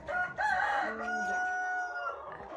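A rooster crows loudly nearby on a small farm during a winter snowstorm, a long, drawn-out call with a rising then falling tone, with faint chicken clucking around it.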